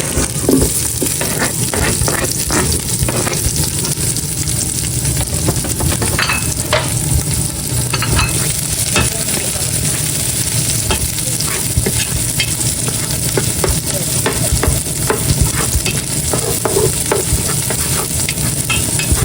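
Onions and marinated pork for pork menudo frying in a pan, a loud, steady sizzle close by with frequent clattering stirs and scrapes of a utensil.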